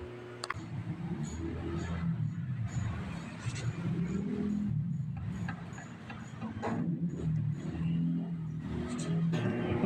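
A Honda Click scooter with a worn, loose bearing runs steadily, its engine drone carrying an irregular rattling knock throughout at close range.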